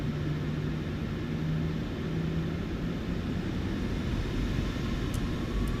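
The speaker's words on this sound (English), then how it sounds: "Auto throttle is armed. Sounds going up. Enjoy this takeoff." Jet engines on an All Nippon Airways airliner spooling up to takeoff thrust in Microsoft Flight Simulator, a steady, loud broadband roar with a low whine that holds constant throughout.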